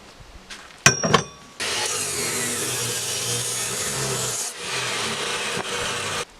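A piece of steel angle iron is cut for a boat stand bracket. A few sharp knocks come first, then a loud, steady, harsh grinding cut runs close up for about five seconds before stopping.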